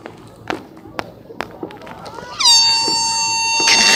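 A few sharp knocks and thuds give way to a small parade boat's air horn, which blasts loud and sustained for the final second and a half.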